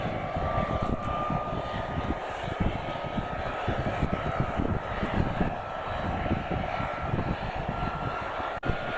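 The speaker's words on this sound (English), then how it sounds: "People are getting on the helicopter." A helicopter engine runs steadily nearby in polar bear country at Churchill, Canada, a loud continuous whine and rumble with a fast rhythmic beat and no pauses.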